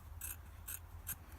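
Three crisp snips at a steady rhythm as a bit is trimmed off a part for a Miele S312i vacuum, close and quiet over a low background hum.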